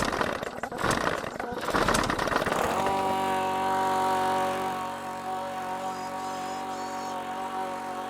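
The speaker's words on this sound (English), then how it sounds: "just listen to that engine roar." A new lawnmower's engine starts with a rough, sputtering burst, then settles into a steady, loud drone with strong harmonic tones, running alone without talk.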